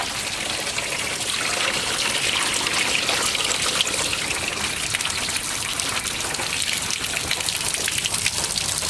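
Water and antifreeze flush out of the engine block drains of a 1979 Chevy G20 custom van, a steady, close trickling and splashing that runs continuously without pause.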